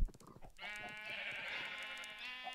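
A Minecraft sheep gives a single drawn-out bleat, quiet and clear, after a short soft sound at the start, with no talking.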